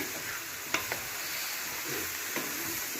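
Bottle gourd curry with raw green chilli masala stirred in a pan, a steady sizzling hiss with a few light spatula taps and scrapes, close and without speech.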